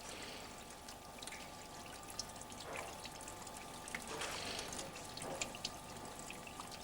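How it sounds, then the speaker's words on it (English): Cold running water rinses tin-plated steel strip after degreasing, a steady broadband wash of flowing water with faint splashy surges and a constant low hum, alone and unbroken throughout. "Next, it's washed in cold running water."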